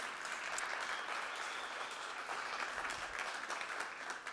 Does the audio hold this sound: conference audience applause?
yes